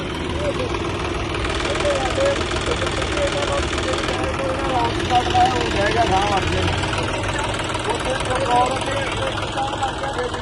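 Tractors hauling trolleys idle at a riverbank embankment breach where volunteers fill sacks for repairs, a steady mid-pitched engine rumble with chugging knocks, with voices heard over it throughout.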